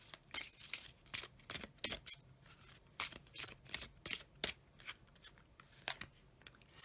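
Oracle card deck being shuffled by hand, a quick run of crisp riffling and slapping bursts repeating close up and fairly loud, with no talking.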